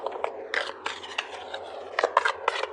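A deck of tarot cards is shuffled by hand in a series of quick papery riffles and scrapes, close up and fairly quiet.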